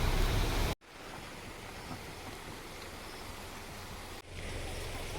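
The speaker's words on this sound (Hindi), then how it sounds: "ओ भाई छोटा झरना है लेकिन बहुत ही तगड़ा लग रहा है।" Small but powerful waterfall beside a mountain road near Kausani in Uttarakhand; a continuous hissing rush of falling water, steady and moderately faint, briefly cut out near the start and again toward the end.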